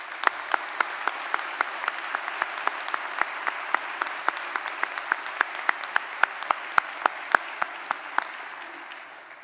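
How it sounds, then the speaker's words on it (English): Audience at a summer graduation ceremony applauding student musicians after a fanfare, sustained even clapping with sharp individual claps standing out, tapering slightly at the end. "So let's give them a round of applause."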